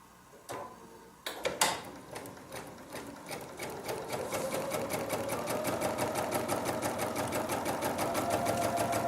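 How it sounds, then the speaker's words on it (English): A sewing machine starts up after a few clicks and settles into a steady, fast, rhythmic stitching hum, close and continuous, with no talking. "Now I'm stitching along this line."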